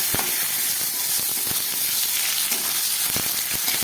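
Half a tomato fries in hot oil with a bay leaf for a vegetarian dish, giving a steady, close sizzling hiss broken by occasional sharp crackles and pops.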